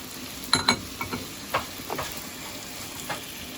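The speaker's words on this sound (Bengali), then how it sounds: "মশলা ফ্রাই দিচ্ছি" Spices frying in a pan for a Bengali fish curry, making a soft sizzle with several sharp spits and crackles near the start and a few more scattered ones, close by and without speech.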